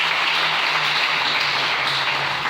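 A church congregation applauds in a continuous, dense wash of clapping, loud and steady throughout, with faint voices mixed in.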